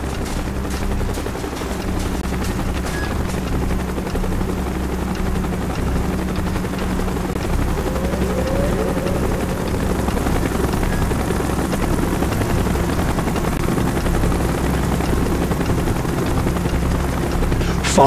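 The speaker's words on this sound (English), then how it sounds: "Chopper's inbound! Move it!" A helicopter in a military shooter video game thrums continuously with a deep, steady rotor drone that stays loud and constant throughout, filling the scene with low mechanical rumble and faint background battle noise.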